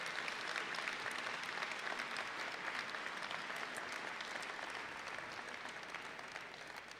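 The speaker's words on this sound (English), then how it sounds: "So let's give yourselves a round of applause." A convocation audience of freshman and transfer students claps in a dense, sustained round of applause that fills the hall evenly and tapers slightly near the end.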